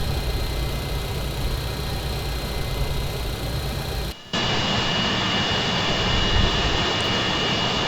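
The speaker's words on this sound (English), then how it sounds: "let's release our parking brakes, and let's commence our pushback" In the FS9 flight simulator, a DC-9 airliner is pushed back by a tow truck while its jet engines hold a loud, steady roar and whine. After a brief dropout the roar resumes just as loud, with no talking.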